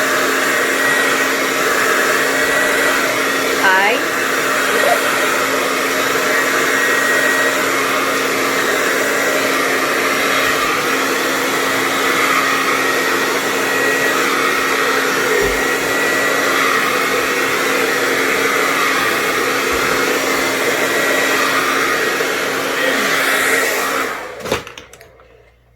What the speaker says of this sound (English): All I do is I do blow dry it.